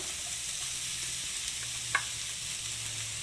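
Capsicum hits a hot pan of egg fried rice with a bright, steady sizzle and faint frying crackle, close up and continuous, with one sharper click partway through.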